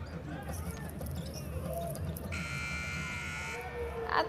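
A flat, steady electronic buzzer sounds for about a second over crowd noise and faint commentary at a basketball game.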